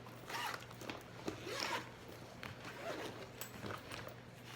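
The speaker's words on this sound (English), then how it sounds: "It has a zip up here" Zipper on a cosmetic bag pulled in several quick rasping strokes, close and fairly quiet, with soft handling noise and a low steady hum beneath.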